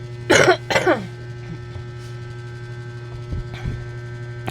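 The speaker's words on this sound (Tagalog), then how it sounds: "Hindi ko maiwasang umubo." Two harsh coughs close to the microphone, then a quieter throat sound, over a steady low electrical hum.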